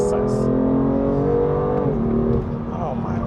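BMW M2 Competition engine pulling hard under acceleration in manual mode, heard from inside the cabin as a steady, muted rising drone that drops pitch at a gear change, with a voice speaking over it.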